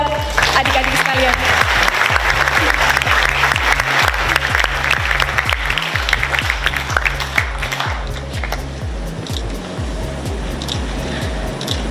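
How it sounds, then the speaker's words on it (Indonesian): An audience gives loud, sustained applause for young volunteers at a gathering with Pope Francis, clapping over steady rhythmic background music and thinning out toward the end. "Tepuk tangan buat adik-adik sekalian."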